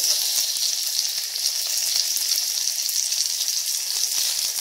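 Onions and tomatoes sautéing in a pan for a moong dal sambar, giving a continuous dense sizzle with scattered small pops, close and steady, with no talking.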